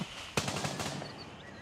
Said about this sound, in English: Oh, yeah, they're shooting at me.